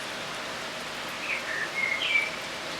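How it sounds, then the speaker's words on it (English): A blackbird calls from somewhere up high, a few faint, thin notes rising over a steady hiss of falling rain. "Oh, Blackbird is up there in the rain."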